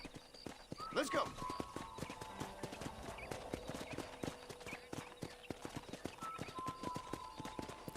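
Steady clip-clop of horse hooves in the video game Red Dead Redemption, an even walking rhythm close by, with a horse whinny near the start and voices talking over it.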